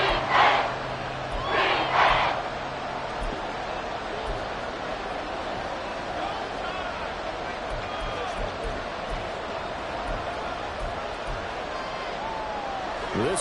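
Stadium crowd noise from an American football video game, a Los Angeles Rams vs Seattle Seahawks matchup, with a steady broad roar throughout and a few louder swells near the start.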